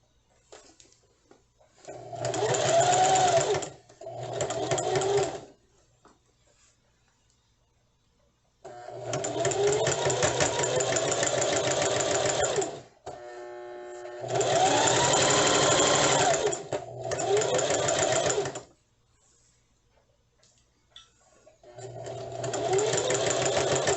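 A sewing machine stitches along the edge of a zipper on a small pencil pouch, running in several steady bursts of a few seconds each, separated by short pauses and quiet handling sounds.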